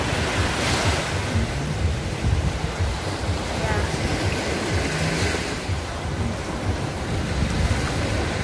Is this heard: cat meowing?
no